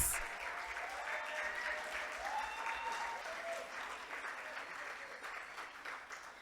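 Continuous applause from a conference audience welcoming a young advocate from Eswatini to the stage, a steady, moderately faint roomful of clapping that slowly tapers toward the end.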